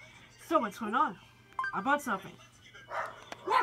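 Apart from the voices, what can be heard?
dogs barking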